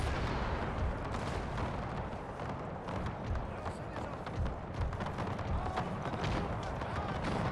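12-pounder artillery guns firing in the video game Napoleon: Total War, a dense, continuous rumble of booms and crackling gunfire throughout, steady and loud with no gaps, sounding like a distant battle.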